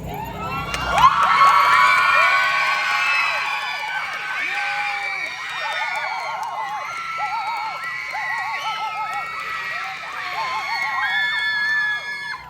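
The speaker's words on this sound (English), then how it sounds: "You guys cheer us out loud." A lively crowd at a Hmong singing event in Alaska cheers loudly, with shouts, whoops and high screams layered into a dense, sustained roar that swells near the start and carries on throughout.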